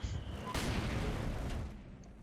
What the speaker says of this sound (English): the mortar lands death from above